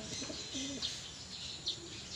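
Pigeons flying past a coconut tree give soft, faint flutters and low cooing in the distance, with a few brief wing swishes over quiet outdoor background.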